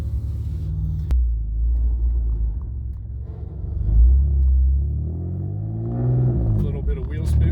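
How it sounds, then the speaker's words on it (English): A car engine rumbles low and loud as the vehicle pulls out of a driveway with a brief wheel spin, the engine note rising and swelling toward the end, with no talking over it. "A little bit of wheel spin to leave the driveway."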